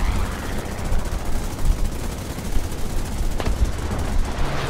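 Anti-aircraft flak in the War Thunder combat game, a dense, continuous rattle of rapid gunfire and bursts, loud and close, with one sharper crack near the end.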